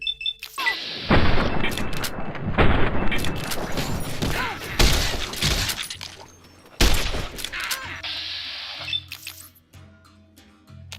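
Gunfire in Fallout New Vegas comes in loud volleys of rapid, close shots, with booming impacts between them. The bursts break off into near silence, then another heavy salvo erupts before fading out.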